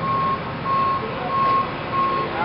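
Cement truck reversing beeps repeat in four evenly spaced tones over steady engine rumble and outdoor crowd noise at a mikvah construction dedication, with no talk.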